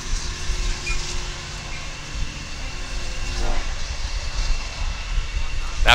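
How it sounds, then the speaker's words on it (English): A Long Island Railroad train rumbles past a baseball field, a steady low rolling noise that swells slightly toward the end. A commentator talks over it. "the field is right next to Long Island Railroad, so got a nice little feature from the train"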